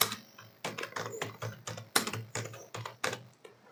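Steady clicking of keys on a computer keyboard while a name is entered into an online registration form, a quick irregular tapping rhythm heard close and alone.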